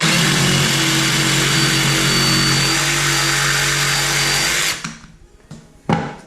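A DeWalt 331B jigsaw cuts through wood with a loud, continuous buzzing whine for several seconds. It then stops abruptly, leaving a few quieter knocks and a brief burst as the blade starts again.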